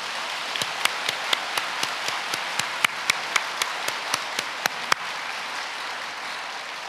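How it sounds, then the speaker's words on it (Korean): Clapping in a church gathering comes as a quick, even run of sharp claps, about four per second, over a faint steady room hum. It continues for about five seconds and then stops, with no speech. "우리 박정호 교구장님께 여러분 큰 감사의 박수를 부탁드립니다"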